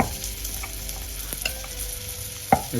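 Raw ground masala fries and sizzles in a pan for a dried salted fish dish, a steady close crackle with light stirring scrapes and a couple of sharper spoon knocks at the end.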